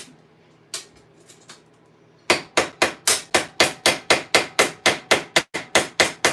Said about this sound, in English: Smallest ball peen hammer possible for riveting out the rivets.